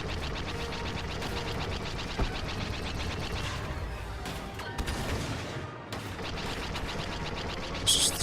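Rapid bursts of Star Wars Battlefront 2 video game gunfire crackle continuously at low volume, with scattered heavier booms, like a busy firefight.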